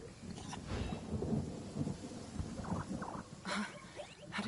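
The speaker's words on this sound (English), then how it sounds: "the sound of thunder is the prelude to new life" Thunder and steady rain in the Genshin Impact video game: a continuous wash of rainfall with low rolling rumbles of thunder building through it, fairly close and even, with no voices.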